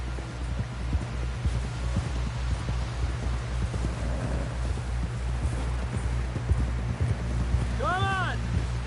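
Horse hooves clip-clop at a steady trot in Red Dead Redemption 2, a continuous rhythmic beat under a low droning hum, with a brief tonal sweep near the end.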